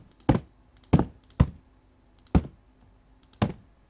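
Objects drop onto a hard surface as procedural hit sounds for an Unreal Engine game, landing as five sharp, separate thuds at irregular intervals. Each impact is close and punchy with a short decay, and silence falls between the hits.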